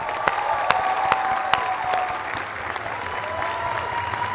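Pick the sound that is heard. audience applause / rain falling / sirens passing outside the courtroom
audience applause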